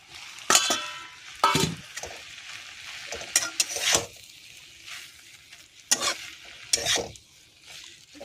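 Scrambled egg being stirred into drumstick leaf greens frying in a pan, with loud scraping stir strokes and clinks over a steady sizzle, several sharp bursts spread across the stretch, no talking.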